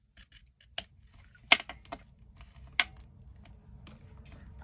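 Scissors cut ribbon in short, crisp snips, a couple of sharper closes standing out, with faint rustles and taps between them in a quiet room.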